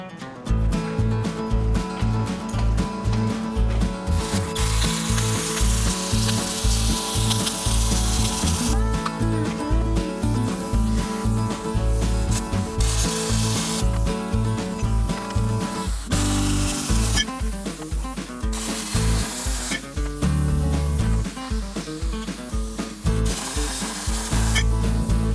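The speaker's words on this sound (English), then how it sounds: "Now I got to get my plasma cutter." A harsh, steady hiss and crackle of a plasma cutter slicing old rusty metal from a Model A, running nearly continuously with a low hum beneath and brief breaks near the end.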